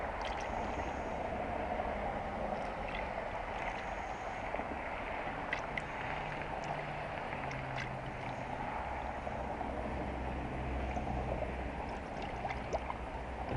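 Air gurgles and bubbles out of an Acura's coolant system during bleeding, a faint, continuous watery burble with an engine running low beneath it.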